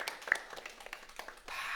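A church congregation claps together in applause at a Sunday service, a soft, dense patter of many hands that is fairly faint and steady and swells slightly near the end.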